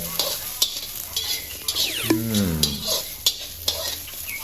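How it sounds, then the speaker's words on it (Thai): Onions dry-roasting and being stirred in a hot pan for Thai nam prik ta daeng chili paste, giving a close, steady sizzle broken by repeated scrapes and knocks of the spatula against the pan. "ใส่ลงไปคั่วเลย"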